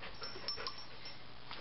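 A husky dog gives soft, brief whimpers and breathy sounds, faint and close over quiet room noise.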